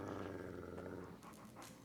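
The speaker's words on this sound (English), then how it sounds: "Rex growls at Edie's presence." A dog in the video game Fallout: New Vegas gives a low, rumbling growl. The sound is quiet and steady and lasts under two seconds, with no other sounds around it.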